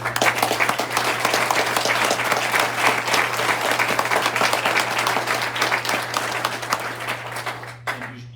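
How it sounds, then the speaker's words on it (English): Audience applause fills a club meeting room, steady dense clapping held for about eight seconds before tapering off at the end, with a faint hum beneath. "So one more round of applause for all 6 of our"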